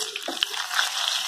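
Garlic and pieces of red chilli sizzle in hot oil for a tempering for a thin safflower-leaf bhaji, a steady close, bright hiss with faint crackles and a light stir, no voices.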